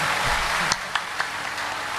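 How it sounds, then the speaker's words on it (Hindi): Applause from an audience at a Ram Katha: a broad wash of many hands clapping, with a few sharper individual claps standing out as it carries on briefly. "ताली मारिए इस वीर के लिए।"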